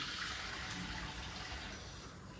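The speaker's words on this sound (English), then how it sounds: "Put water everywhere nicely," Water splashed and poured across a floor before mopping, a dense, continuous hiss of splashing liquid that tapers slightly toward the end, close and alone.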